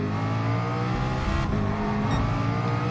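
A Bugatti Veyron engine revving hard in a racing video game, a loud, sustained roar that climbs and shifts pitch through gear changes, with a brief tire squeal, and no talking.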